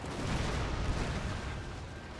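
Artillery fire in the Total War: Fall of the Samurai battle game rolls on as a dense, continuous rumble of booming blasts, loud and unbroken throughout.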